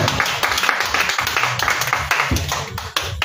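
A congregation claps in rhythm during a prayer vigil, acclaiming the Lord; steady, fairly loud hand claps repeat about three times a second across the whole stretch, with a faint voice under them.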